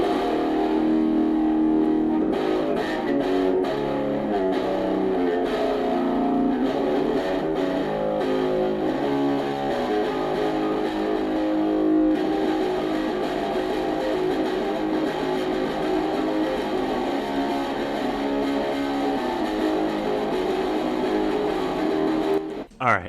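A bass guitar with a distinctive heavily distorted, overdriven tone, a dense, loud, continuous wall of gritty chords and riffing that runs unbroken for over twenty seconds before cutting off abruptly.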